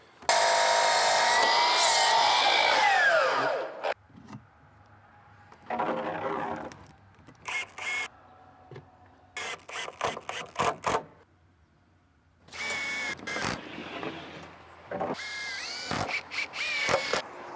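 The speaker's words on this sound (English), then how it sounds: "I'm just gonna cut the ends of a bunch of purlins with this beveled pitch cut here" A power saw makes bevelled pitch cuts across the ends of cedar purlins for a wraparound porch roof, with loud close bursts of whining blade through wood separated by short quiet gaps, repeated several times.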